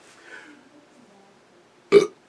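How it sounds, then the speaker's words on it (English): A single loud, abrupt burp near the end, following a stretch of faint murmuring, short and close with a quick decay. "burp"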